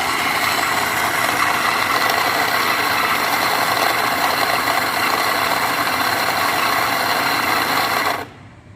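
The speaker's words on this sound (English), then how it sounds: "then I restart grinding the chemex coffee" Coffee beans for a Chemex brew being ground in a grinder, giving a loud, steady mechanical whir close up. It runs unbroken for about eight seconds and then cuts off abruptly, with no talking.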